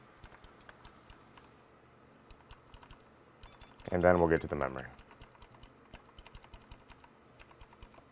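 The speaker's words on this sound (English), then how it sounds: "Sorry about the clickety keyboard." A clicky computer keyboard clatters in quick, irregular keystrokes at an overclocking bench, faint and close, while someone speaks briefly midway over the typing.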